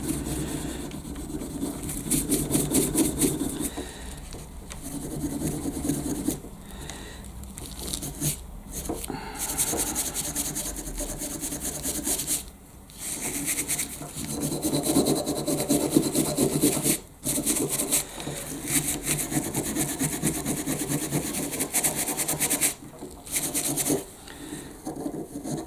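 Pruning shears (secateurs) are scrubbed clean, giving a close, continuous rasping rub with short pauses and shifts in stroke, loud and steady with no talk over it.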